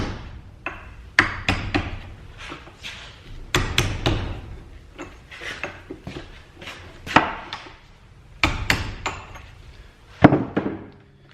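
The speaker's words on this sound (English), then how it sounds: "now I got myself a little chisel here, or you use your air chisel, and just kind of putting this in here and just smacking it" A small chisel is hammered into a ball joint rivet during a C4 Corvette front suspension rebuild, with sharp metallic strikes landing in irregular bursts, about a dozen loud close blows with short pauses between.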